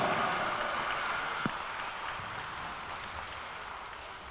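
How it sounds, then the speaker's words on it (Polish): Audience applause at an indoor company-league futsal final, a steady wash of many hands clapping from a crowd that fades slowly toward the end. "Wielkie brawa."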